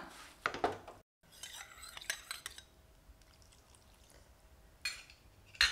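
A utensil stirs sugar and dissolved saffron into a sweet mixture in a pan, giving scraping clinks against the metal and soft wet churning. The sound comes in irregular close bursts with a brief pause.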